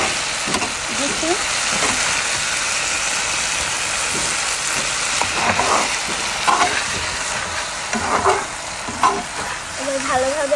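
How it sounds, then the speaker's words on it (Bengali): A tomato curry with mustard is stir-fried in a pan, with continuous sizzling and frying and repeated scraping stir strokes close by. Brief voices are audible in the background. "এবার ভালোভাবে আমি কষে নিচ্ছি।"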